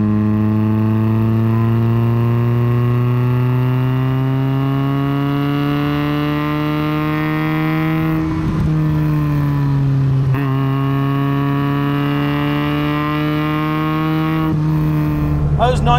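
A Lotus Type 14 Elite's 1.2 litre Coventry Climax engine revs up with a rising pitch, drops briefly twice at gear changes through its 4-speed ZF gearbox, then climbs again, continuous and close throughout.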